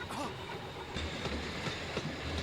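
A train in an anime episode rumbles steadily with rhythmic clattering of wheels on rails, close and continuous throughout.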